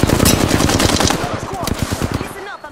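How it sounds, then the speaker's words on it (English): Rapid automatic gunfire in the video game Apex Legends: a dense, loud, continuous stream of close shots that thins out and stops near the end. "I'm getting shot at. I am taking fire."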